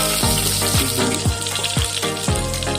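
Garlic and onion frying in a little hot oil in a home kitchen, a loud continuous sizzle with rhythmic scraping strokes of a spatula stirring the pan about every half second.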